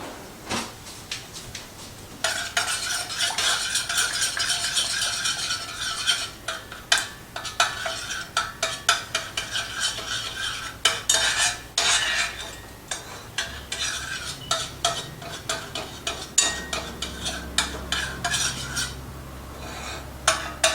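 A whisk works miso paste into liquid in a metal pot or bowl, giving rapid, scraping clinks and swishes in uneven bursts close by, with pauses and a low background hum, no talking.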